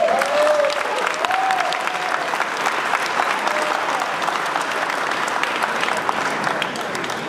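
Applause from an assembly audience applauding themselves fills the room continuously and evenly, with a few faint whistles or cheers near the start.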